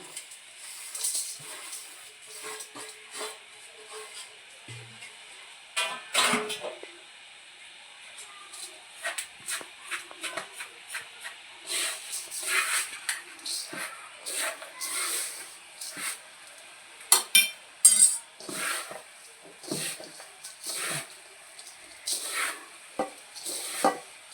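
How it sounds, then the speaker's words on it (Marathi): Roasted dry date powder being stirred into ghee for a dry fruit laddu, heard as soft, irregular scraping and shuffling strokes in a pan, close and moderately quiet, with no talking. "आता मी याच्यात टाकत आहे खारीक पावडर तुपामध्ये भाजून घेतलेली ती मिक्स करत आहे"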